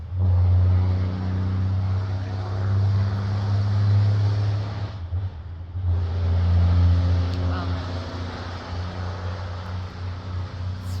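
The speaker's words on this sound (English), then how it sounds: "that truck is really loud." A loud truck passes outside, a heavy low engine rumble that fills the whole stretch, briefly easing near the middle before swelling again, with faint talk underneath.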